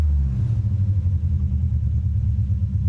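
Engine of a 1967 Triumph Spitfire Mk3 running close by with a steady low rumble and a slight rise in pitch as it is revved, heard alone without talk.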